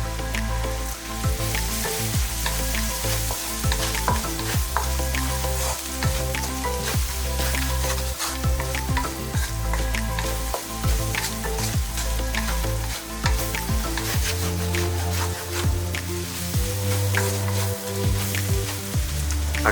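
Turmeric powder is stirred into sautéed onions in a pan for Kerala-style beef fry, giving a steady, close sizzle with occasional scraping strokes over low background music throughout.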